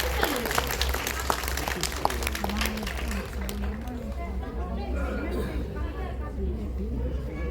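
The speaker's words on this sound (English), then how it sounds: "A big round of applause for all of them." Audience at a pre-school annual day program claps in a dense burst of applause mixed with crowd chatter, tapering off after a few seconds as children's voices and talk continue in the hall.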